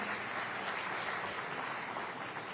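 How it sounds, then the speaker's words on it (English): Steady, dense applause from a conference audience at a hospitality industry event, honoring the CEO of Indian Hotels: a continuous wash of many hands clapping with no voices on top. "let's clap for this man, CEO of Indian Hotels."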